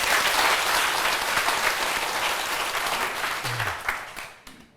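Audience members at a lecture give a round of applause, a thick sustained patter of many hands that slowly tapers off in the final second.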